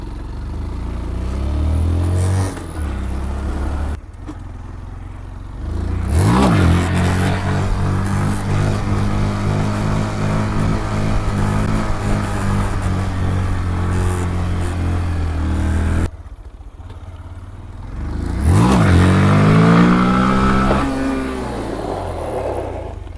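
A Honda Grom motorcycle revs hard during wheelie attempts, its small engine climbing in pitch through the gears in loud close bursts, dropping away between runs, then surging again.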